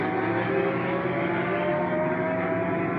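Sportscar racing at the Donington circuit in 2001: a continuous loud engine roar with a droning, buzzy tone holds steady throughout, with no talk over it.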